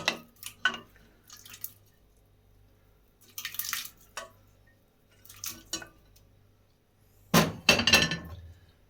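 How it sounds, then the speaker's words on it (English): Potatoes dropped into a pan for homemade chicken soup, a series of irregular clattering knocks and clinks in separate bursts, the loudest cluster near the end, with quiet gaps between. "Now into this pan, I'm going to add potatoes."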